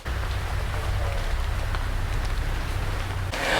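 Drizzling rain falls in the Kibale National Park forest in Uganda, a constant close hiss with a low rumble underneath, steady throughout and without talk.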